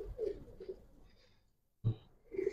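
Coloring and racer Giribaz pigeons coo in low, throaty bursts, one murmur early, a short gap of quiet, then a sudden louder coo and another rising call near the end.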